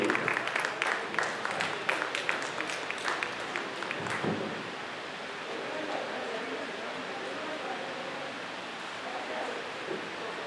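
Audience applause at a Mother's Day felicitation in Tyagaraya Gana Sabha, with close distinct claps for the first few seconds that then fade into a diffuse, distant rumble of crowd noise.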